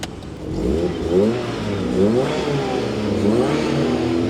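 A Perodua Kelisa's 1300cc K3-VE2 engine turns over and catches, then revs up and down in a few smooth swells close by, idling steadily between.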